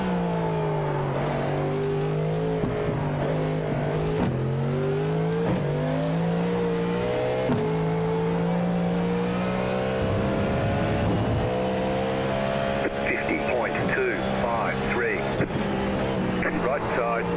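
Race car engines in an LM prototype iRacing session, a sustained high whine with repeated gear-shift steps and revs climbing and dropping, loud and close, with radio talk layered over it.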